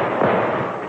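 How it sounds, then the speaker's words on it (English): Firecrackers set off for the Fourth of July crackle and pop in a dense, continuous rattle, fairly loud and steady with no voices over them. "Oh, darn Tommy and his darn firecrackers."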